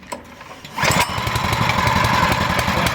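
A Mast Zipper wood chipper's engine is started with the choke on. After a few quiet clicks it catches abruptly and settles into a loud, steady, close running drone.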